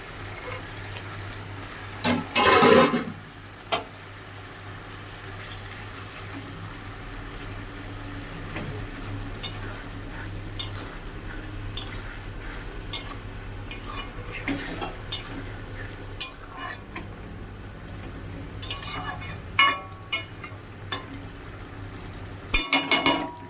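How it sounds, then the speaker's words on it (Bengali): Fried puti fish goes into a boiling fish curry and is stirred: scattered metal spoon clinks and knocks against the pot over a low, steady simmer, with no talking. "ঝোলটা ফুটে উঠেছে, এবার আমি ভাজা মাছটা দিয়ে দিচ্ছি।"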